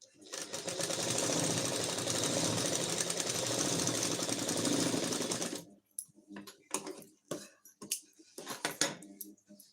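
A sewing machine runs steadily and loudly for about six seconds, joining the neckline of a princess-cut blouse, then stops. A voice follows with short bursts of talk and handling sounds.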